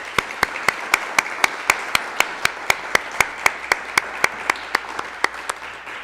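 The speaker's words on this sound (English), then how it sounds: "Let's give a warm applause to Valeria." An audience at a public speaking competition final applauds after a speech: a bed of crowd clapping with one sharp, close clapper beating out an even, steady rhythm of about four claps per second.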